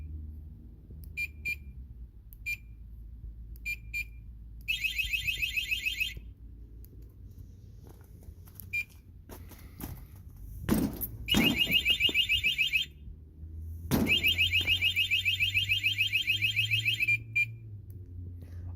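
A Steelmate motorcycle alarm, set off by its remote clicker, sounds up close: a few short chirps, then loud warbling siren blasts that cut in and out, with faint handling clicks between.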